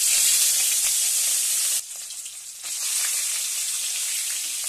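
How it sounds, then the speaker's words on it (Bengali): Rohu fish frying in hot oil, a loud steady bright sizzle that drops briefly quieter midway before resuming, close and continuous with no voices. "তেলটা ভালো করে গরম হয়ে আসলে আমি মাছ ভেজে নিব"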